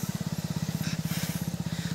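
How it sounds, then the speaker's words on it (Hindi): A motorbike labours up a steep slope at an eco-tourism site, its engine chugging in a fast, steady low putter that stays loud and close throughout, with faint wind noise above. "क्योंकि 300 चढ़ा नहीं पा रही है बाइक।"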